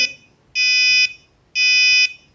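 The buzzer of an IoT parking sensor gives two sustained half-second electronic tones, one second apart, loud and close with no talking.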